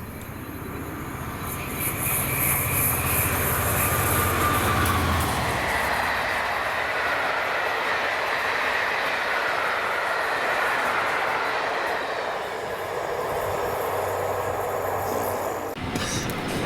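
Class 67 locomotive 67006 hauls a tour train past Brunston Bridge with a loud, sustained diesel roar and a rushing rumble of passing coaches, swelling quickly and easing off as the train goes by, with no voices.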